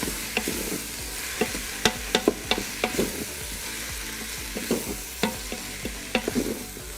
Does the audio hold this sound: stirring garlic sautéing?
yes